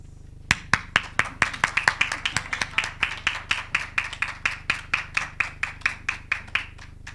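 An audience at a digital literacy graduation for educators claps steadily for the graduates, with many hands striking in a fast, even rhythm of sharp, close claps for several seconds.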